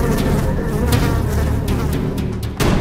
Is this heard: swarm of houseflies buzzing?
yes